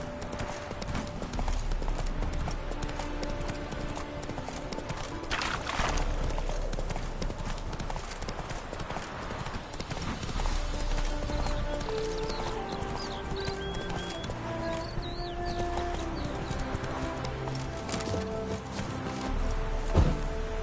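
Roach the horse trotting in The Witcher 3, with steady rhythmic hoof clip-clops over a continuous game soundscape, plus a brief whinny and occasional spoken lines.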